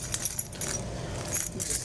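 A bunch of keys jangles and clinks continuously up close, bright metallic rattling in uneven shakes over faint background noise, with no talk.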